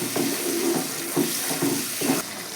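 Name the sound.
water rinsing spice paste out of a bowl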